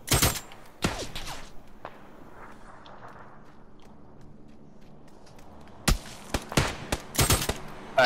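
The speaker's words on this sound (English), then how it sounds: "Sounds like we got shots coming from our left now" Several sharp gunshots from PUBG squad gameplay, a pair near the start and then a cluster of loud, rapid cracks toward the end with quieter ambience between.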